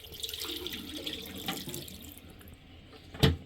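Condensate water pours from a dehumidifier's collection container, a faint trickling stream that tapers off before a short louder splash near the end, with no voices.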